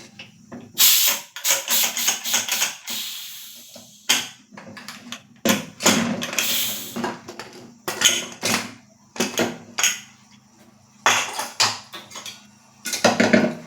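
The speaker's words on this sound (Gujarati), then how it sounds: "કુકરમાંથી હવા નીકળશે" A pressure cooker cooking dal with spinach vents loud, sharp bursts of hissing steam again and again, with short pauses between them.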